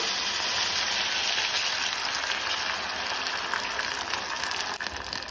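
Okra sizzles and spits in a hot pan right after water is poured in, a steady loud hiss with crackling throughout and no talking.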